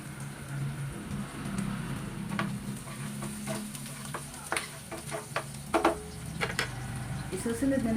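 Onion and garlic sizzle steadily in a hot pan, with a spatula scraping and clinking against the metal now and then, close and fairly quiet, with no talk over it.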